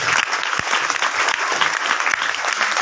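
An audience claps for a high-scoring student at an academic institute's annual results and prize ceremony, a dense, steady round of applause heard on its own from start to finish.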